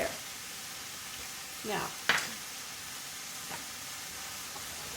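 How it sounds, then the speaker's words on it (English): Mushrooms and onions for polenta sizzling quietly in a pan, a soft steady hiss with a couple of brief louder stirring swells, and a voice speaking one word. "what we want to do is cook the mushrooms down and get the onions sort of translucent"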